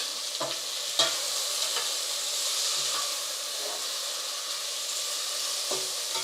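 Tomato and spices sizzle in a frying pan with a bright, steady hiss, broken by a few spatula scrapes and taps as the mixture is stirred, close and moderately loud.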